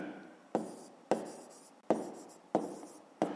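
Pen strokes on paper while writing out a fifth-grade math solution: five close, crisp scratching strokes in a steady rhythm, each sharp at the start and tapering, with no voices.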